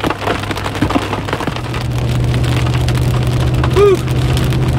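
Heavy hail and rain pound an RV transport vehicle during a storm, a dense steady roar of impacts that swells louder partway through, with a brief tonal sound near the end.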